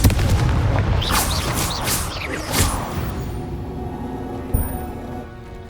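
Confringo spell blasts in Hogwarts Legacy, a loud booming burst with crackling explosive bursts that rumble and decay over several seconds, followed by a fainter thump.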